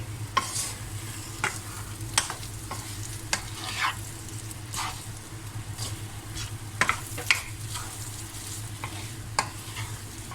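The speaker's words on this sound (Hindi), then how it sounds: "दाल अच्छी तरह मिक्स कर लेंगे।" Chana dal stirred in a frying pan while it fries, with repeated spoon scrapes and clicks over a steady sizzle, close and fairly quiet throughout.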